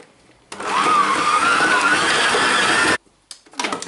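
Stand mixer whirring at speed while combining puff pastry dough with butter, a loud steady motor hum that starts abruptly, runs for a few seconds and cuts off, followed by brief clattering.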